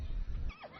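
Yili horses at a horse ranch give a short neigh, a rising then falling whinny in the second half of a brief moment, with low rumbling and hoof noise before it.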